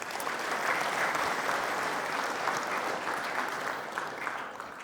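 Sustained audience applause fills a film premiere screening at a cinema centre, dense steady clapping from a large crowd throughout, easing slightly toward the end, with no talk over it.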